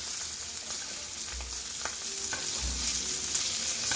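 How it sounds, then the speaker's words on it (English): Steady frying sizzle of a steak basted in melted butter with garlic and rosemary in a pan, close and continuous, with a couple of low thumps from the spoon and no talking. "Get that butter nice and melty"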